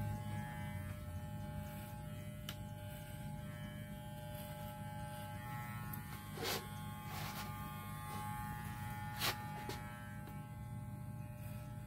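A Walmart hair clipper cuts a taper fade, buzzing quietly and steadily with a few faint clicks and snips along the way.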